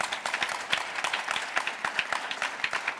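Audience applause at the Irvine mayoral candidate forum in 2024, a moderate room full of clapping with distinct individual hand claps audible, steady and fairly close, with no one speaking.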